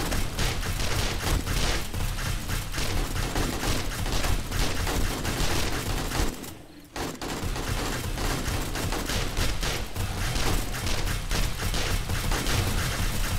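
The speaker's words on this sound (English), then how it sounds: "I can see multiple shots going off" Dense, nonstop gunfire during a co-op horde night in Alpha 18: overlapping rapid shots and bursts merge into a loud, continuous roar, broken by a brief lull halfway through.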